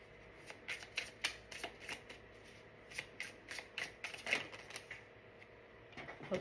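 Tarot cards are shuffled by hand close up but quietly, giving irregular bursts of crisp riffling and flicking over a soft background hush, with no voice.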